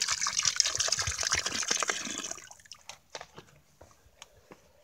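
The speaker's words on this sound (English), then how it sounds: "I'm going to fill up their little water hole" Water poured from a container into a small wildlife water hole outdoors, a loud gushing splash for about two seconds, then tapering to scattered faint drips and trickles.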